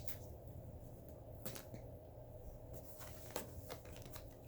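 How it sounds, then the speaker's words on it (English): Tarot cards are shuffled quietly at close range, a soft stream of papery riffles and flicks with a few sharper snaps as a couple of cards drop out. "2 cards fall out."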